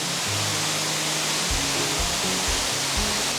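A waterfall pours in a constant, dense roar of rushing water that stays loud and even throughout, with low gurgles underneath.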